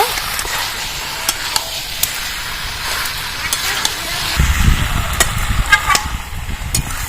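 Young jackfruit with fried potatoes being stir-fried in a pan, a soft continuous sizzle punctuated by sharp clicks of a spatula against the pan, with a louder low rumble of stirring toward the end.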